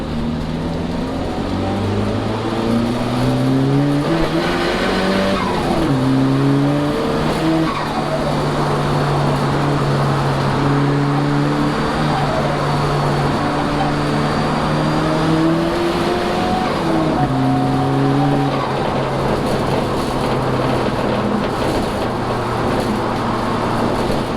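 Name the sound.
car driven hard with boost on a test run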